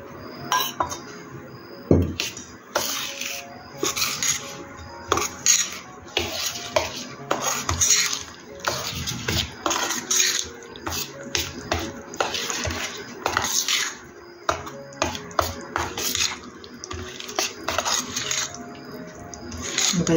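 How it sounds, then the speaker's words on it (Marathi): A spoon stirring oil into a raw mango pickle mixture in a metal bowl, repeated scraping clinks and rattles in an uneven rhythm, close and prominent, with a voice speaking at moments over the stirring. "आता पण याच्यामध्ये तेल मिक्स करू"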